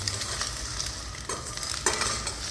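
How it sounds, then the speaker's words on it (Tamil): Masala fish fry is stirred in a pan, with a continuous close sizzle and intermittent scraping of the spoon against the pan. "மசாலா வந்து படுற மாதிரி கிளறி விட்டுக்கலாம்."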